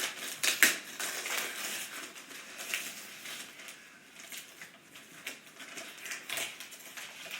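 A wrapped gift package being opened by hand, with crinkly paper tearing and rustling in irregular bursts, close and fairly quiet, with no speech.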